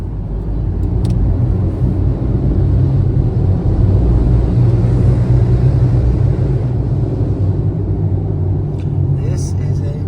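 Riding inside a truck on a road in El Salvador, a loud, steady low rumble of engine and road noise fills the cabin continuously, with a faint voice briefly near the end.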